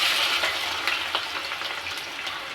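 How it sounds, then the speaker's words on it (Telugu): Chopped onions frying in hot oil in a pan for chicken masala curry; a steady, close sizzle with occasional stirring scrapes, no voices. "ఆనియన్ వేసుకోవాలండి."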